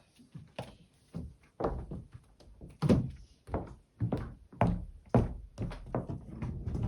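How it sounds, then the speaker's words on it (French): Repeated heavy thuds of knocking on a door, about a dozen dull blows in irregular clusters over several seconds, fairly close and with no talk. "On frappe à la porte."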